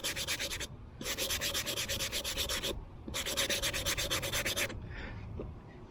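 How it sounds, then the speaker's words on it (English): Hand sanding a fruitwood carved spoon with a sanding block: two long, steady rasping bursts of back-and-forth rubbing strokes, close and fairly loud, separated by a short pause, then quieter scraping at the end. "I like to start out with these sanding blocks."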